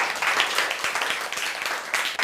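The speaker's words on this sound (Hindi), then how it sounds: "इनके लिए जोरदार तालियां" Classroom applause from students cheering on classmates who helped a friend, a dense wash of claps running steadily through the whole stretch with a few louder individual hits.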